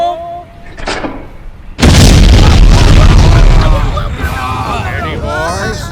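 A mine blasting explosion in a dramatized cartoon dub set in a mine: a sudden heavy boom breaks in after a moment of quiet and rumbles on with crumbling debris, loud and close, followed by shouted voices.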